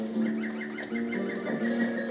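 Chickens clucking outdoors, several close, throaty clucks and warbling calls in quick succession, loud and clear with no talk over them.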